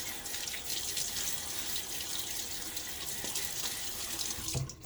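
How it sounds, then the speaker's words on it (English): Water splashed onto a face at a bathroom sink during a shave, a steady close rush of tap water with splashing throughout, ending in a brief drop-off as the flow stops. "All right, splash my face."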